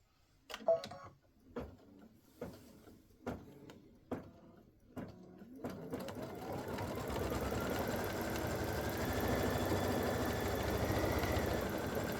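Quilting machine stitching an edge-to-edge autumn leaves pattern on a quilt: a series of distinct clicks and thumps at first, then the motor whirs up into a steady, rising hum that continues to the end, close and alone.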